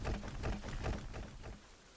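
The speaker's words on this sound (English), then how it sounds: "It is raining, so we are now" Rain falls in a video game, a short steady wash of patter that fades slightly toward the end, with no one talking.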